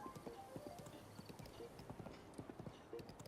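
A horse trots in Breath of the Wild with quick, rhythmic clip-clop hoofbeats, faint and steady throughout.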